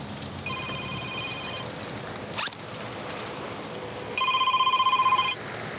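A telephone rings in a quiet room, with one electronic ring burst early on and a louder, longer ring near the end, separated by a brief click.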